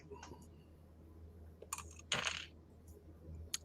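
A die is rolled onto a table during a tabletop role-playing game, giving a brief clattering tumble near the middle, faint and close, over quiet room noise with a few small clicks around it.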